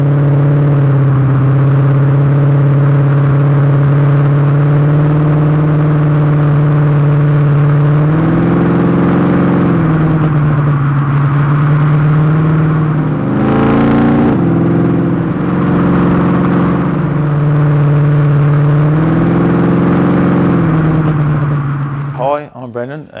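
A 1972 Plymouth Barracuda's engine rumbles at a loud, steady idle, rising in three brief revs spread across the clip before settling back each time.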